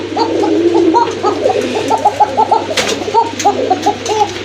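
Several kokka pigeons being sold as a pair coo repeatedly in steady rhythmic bursts, close and fairly loud, with a faint low hum underneath and occasional rustling.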